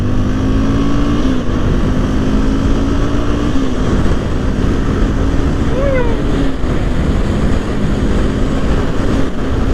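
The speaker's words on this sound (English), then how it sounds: "next I'm about to show you all the acceleration on this bike" A 2011 Honda CBR 250 motorcycle accelerates hard. Its engine note climbs, drops with each gear change and climbs again under loud, close wind rush.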